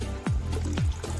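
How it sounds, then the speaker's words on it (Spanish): Water trickles from a leaf beside a tall waterfall in the Los Chorrillos nature reserve, two distinct drip-like plops falling over a constant wash of rushing water. "De una hojita sale el agua."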